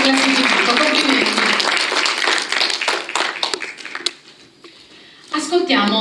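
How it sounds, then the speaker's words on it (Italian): Applause from the audience at an awards ceremony for a literary prize, greeting the third-place winner; dense clapping fills the first four seconds, then fades, and a brief burst returns near the end. "l'applauso naturalmente per il terzo classificato"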